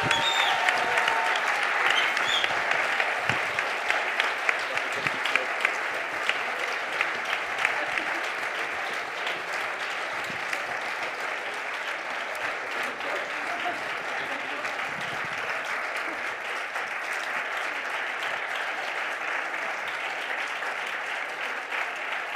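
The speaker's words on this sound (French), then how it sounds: "Et les applaudissements du public." Sustained audience applause for the winners at the EPFL 2024 My Thesis in 180 Seconds final, many hands clapping steadily for over twenty seconds, with a few sharper claps early on that gradually settle into an even, slightly softer wash.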